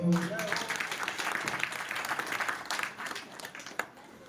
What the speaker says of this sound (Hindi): तो एक हमारे बनकंडू से सरकार के लिए भी ताली बजा दो